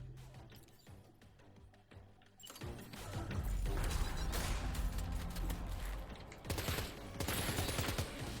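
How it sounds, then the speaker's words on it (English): Gunfire from cover in Death Stranding 2, starting with quieter mechanical clicks before loud rapid shots and crashing impacts break out and continue in dense repeated bursts. "Popping out and firing from cover."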